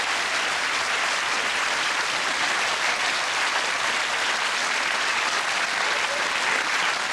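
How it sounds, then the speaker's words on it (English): A game-show studio audience claps in a loud, continuous, evenly sustained round of applause with no break from start to finish. "let's give a nice round of applause"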